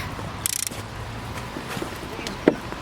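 A wrench loosening a rear brake caliper bolt on a Renault Megane 2 gives a quick burst of ratcheting clicks, then a single sharp metallic knock near the end, against quiet workshop background.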